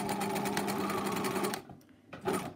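A Bernina sewing machine stitches a buttonhole with a fast, steady mechanical whir and needle rattle. It stops briefly, then gives a short burst of stitching.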